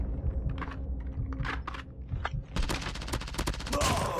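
Rapid bursts of automatic QXR gunfire in a multiplayer shooter game crackle in quick succession, starting with scattered shots and building into dense, sustained volleys near the end.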